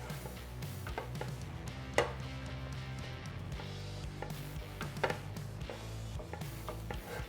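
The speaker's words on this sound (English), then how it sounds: "now I'm gonna go ahead and dump in my mozzarella, and you want to make sure that you mix really well" Mozzarella being mixed into keto bagel dough in a skillet gives quiet scraping and tapping of a utensil against the pan, with a few sharper knocks scattered through the stirring.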